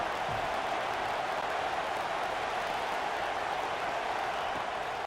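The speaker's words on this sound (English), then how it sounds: "The Tide crowd rolling noise down on the Saban field on 3rd down." Stadium crowd at an Alabama home game in a college football video game, a steady broad roar rolling through on third down, loud and continuous with no pauses.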